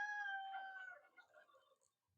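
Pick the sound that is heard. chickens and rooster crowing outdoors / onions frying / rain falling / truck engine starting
chickens and rooster crowing outdoors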